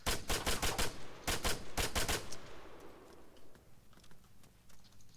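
Rapid bursts of gunshots in ARMA 3, close and loud in quick clusters, followed by a fading rumble and a few scattered distant pops.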